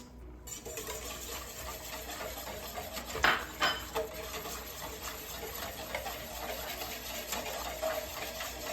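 Grated cheese being stirred into carbonara pasta in a pan, with soft scraping and a few metallic clinks of a utensil against the pan over a faint steady background hum.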